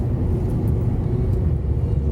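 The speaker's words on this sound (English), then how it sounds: "And this truck's getting in my way." Heavy truck moving through the Skeoch Roundabout in Cumberland, North Lanarkshire, Scotland, a steady low engine rumble and road roar close by, continuous for the whole stretch with no talk.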